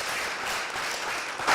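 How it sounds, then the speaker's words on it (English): Steady applause from a health summit crowd for a panel, dense clapping that fills the whole moment and swells slightly louder at the end. "Big round of applause for this excellent panel."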